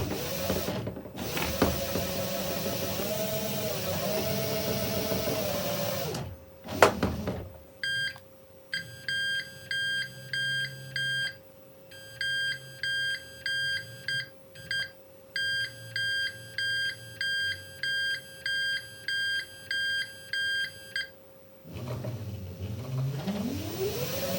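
An RC car converted with a hoverboard motherboard ESC whirs with a motor hum, then gives way to a long run of rhythmic electronic beeping and mechanical whine, with the motor hum returning at the end.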